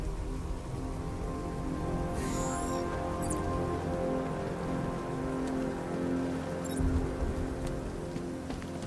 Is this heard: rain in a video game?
yes